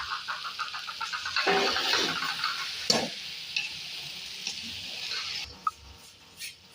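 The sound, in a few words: stirring bhindi gosht with spices in a cooking pot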